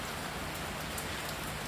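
Steady rain falls with a constant dense hiss and scattered droplet taps, loud and unbroken throughout, with no voices.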